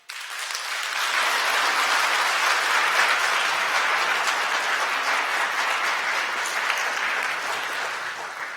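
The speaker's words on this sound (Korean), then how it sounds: "뜨거운 박수로 환영해 주시기 바랍니다" Congregation applauding warmly during a Sunday church service, a full, even wash of clapping that starts abruptly and holds steady for several seconds.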